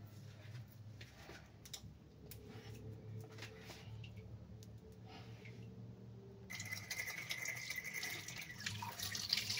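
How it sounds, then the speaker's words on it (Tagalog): Tap water runs quietly into a sink while a wok is washed, with soft splashing and light scraping. The flow grows louder and brighter partway through. "So I need to wash this kalaha first."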